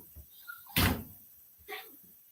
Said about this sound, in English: Open the door, Jesse.